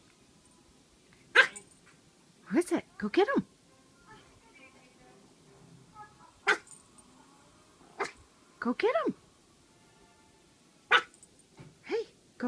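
A dog barks at its own reflection in a mirror, giving a few short sharp barks and whimpers spaced apart, with a person talking encouragingly between them.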